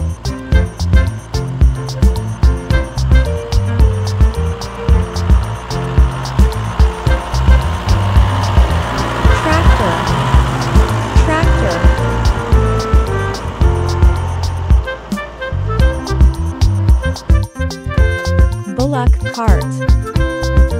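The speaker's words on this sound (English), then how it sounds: "Tractor." A heavy tractor engine chugs loudly and steadily with a rhythmic low thumping, close by, shifting to rougher knocking near the end.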